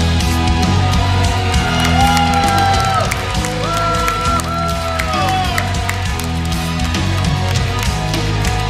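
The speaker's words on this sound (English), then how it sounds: "Please, a big round of applause for" A crowd at the IEM Kiev 2012 esports grand final cheers and applauds the winning team NaVi, with loud sustained whoops and clapping under music.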